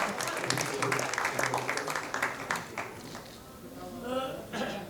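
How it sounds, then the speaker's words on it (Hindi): Audience applause welcoming the poet Aslam Hasan on stage at the Virasat Mumbai 2025 literary festival, a steady patter of clapping that fades in the final seconds as a voice begins. "जोरदार तालियों के साथ इस्तकबाल कीजिए"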